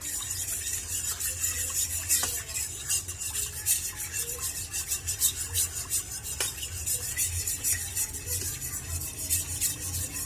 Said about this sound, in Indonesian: Saya aduk terus.